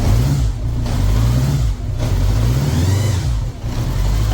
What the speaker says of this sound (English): I mean, that motor sounds very good.